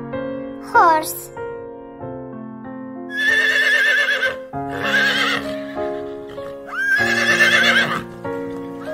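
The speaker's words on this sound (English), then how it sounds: "Horse." A horse gives several loud, shrill whinnies that rise and fall, close by and clear, separated by brief gaps.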